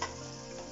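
Mixed vegetables with cashews and green chillies stirred in a hot pan, giving a brief, faint, steady sizzle with a light tick of the spoon.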